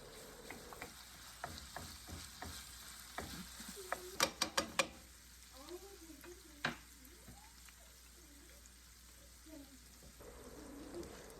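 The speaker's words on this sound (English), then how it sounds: "When your meat is nearly done in the frying pan" Sausage meat fries softly in a pan with a low steady crackle, broken by a few sharp clinks of utensils and some scraping and stirring.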